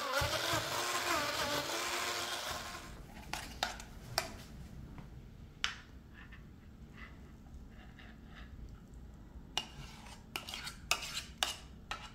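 A mixer blending chocolate ganache runs with a loud whir for the first few seconds, then stops, followed by scattered clinks and taps of utensils against a bowl.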